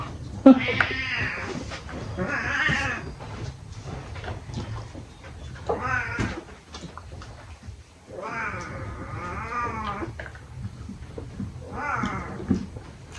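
A cat meows loudly and repeatedly, with drawn-out, wavering cries separated by short pauses, close by and dominating the scene.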